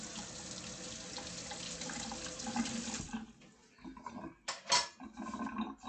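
Hot water runs steadily from a kitchen sink tap for about three seconds, then stops, followed by a few clinks and splashes of washing in the sink.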